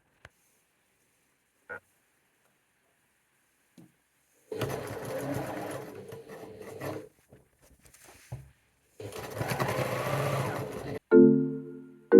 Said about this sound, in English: I'm gonna go stitch around this edge here now, and then cut the graphic out just like the last one